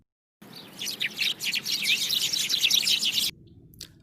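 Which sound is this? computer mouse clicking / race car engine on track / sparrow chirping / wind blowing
sparrow chirping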